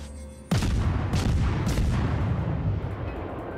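Cannons fire in a video game, a sudden loud booming blast followed by a few more heavy thuds and a long rumbling decay, with no voices.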